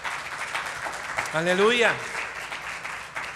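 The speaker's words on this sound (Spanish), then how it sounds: "¿No das una ofrenda de palmas por esto?" A church congregation applauds, a wash of clapping that runs throughout under a voice calling out loudly in the middle.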